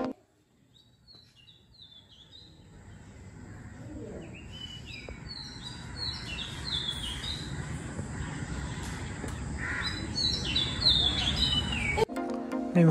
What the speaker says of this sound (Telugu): గోవాలో హోటల్లో మార్నింగ్ ఇలా డోర్ ఓపెన్ చేయగానే చూడండి బర్డ్ సౌండ్ ఎంత బాగా